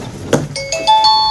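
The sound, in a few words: doorbell ringing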